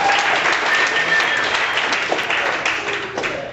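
A comedy club audience in a theater breaks into steady applause mixed with scattered cheers, a dense, loud wash of clapping that holds for several seconds and eases only slightly toward the end.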